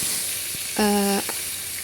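Steady oil sizzle of tempeh frying, with a brief sharp tonal squeal in the middle, like a frying pan hissing close by.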